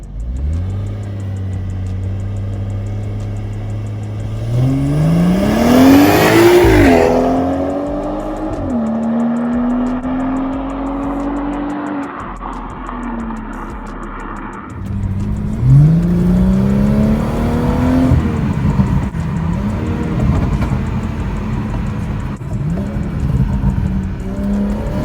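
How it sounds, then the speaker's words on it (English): A BMW B58 engine fitted with a catless downpipe pulls hard through the gears on a 0-60 run, revs climbing, dropping at each shift and climbing again, loud and close with no talking. "we're gonna go ahead and do a 0 to 60 and see the best time that we got with the Catless downpipe"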